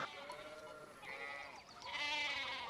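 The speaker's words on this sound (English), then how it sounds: "I get there's just a lot of sheep" Sheep bleat in the video game Pentiment, a few wavering, nasal calls rising and falling over soft ambient background, fairly quiet and without talk.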